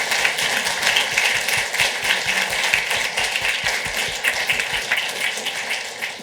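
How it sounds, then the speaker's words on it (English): Audience applause fills a room at a food entrepreneurship event, steady dense clapping from many hands that holds up for the whole stretch with no voices above it. "Can we applaud again, please?"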